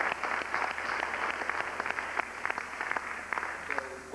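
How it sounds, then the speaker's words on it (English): Audience applause for Ashra Kwesi fills the room, a steady wash of many hands clapping, fairly loud and continuous, with a few sharper claps poking out and a brief tonal sound near the end. "Clap it up for Ashra Kwesi."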